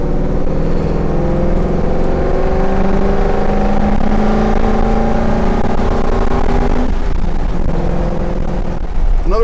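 A classic Ford Bronco with a swapped-in Coyote V8 roars loudly and continuously, its engine note climbing in pitch as it accelerates, then settling briefly before rising again.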